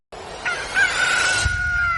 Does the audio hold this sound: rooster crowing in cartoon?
yes